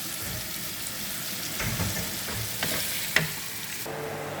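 Food fries in oil in a pan, a continuous close sizzle and crackle with stirring scrapes and a brief sharp clink near the end.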